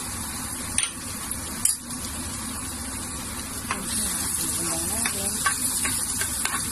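Minced garlic, three cloves, sizzles steadily in reused oil left from frying chicken, a continuous close hiss with a few sharp clinks of a utensil against the pan.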